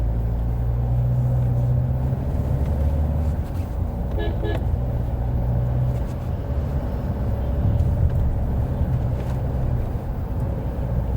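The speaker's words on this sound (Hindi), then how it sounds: "फालतू का ट्रैफिक है।" Road traffic on the Delhi–Meerut expressway makes a continuous low rumble of passing vehicles heard from inside a moving car, with a brief horn toot partway through and steady road noise throughout.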